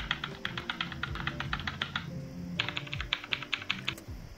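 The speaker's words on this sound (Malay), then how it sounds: "jom kita compare bunyi keyboard ini dengan bunyi mechanical keyboard" Typing on a Cooler Master membrane-mechanical hybrid keyboard produces a close, rapid run of clacking keystrokes, broken by a brief pause before a second burst of steady tapping.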